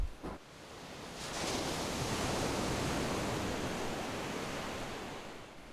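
Ocean surf on a beach in Kihei, Maui, heard as a steady, broad rushing wash of breaking waves that swells after a brief thump at the start, with no voices.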